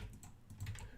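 Fingers typing on a computer keyboard produce a quiet, steady patter of key clicks with no voices, close by and continuous throughout.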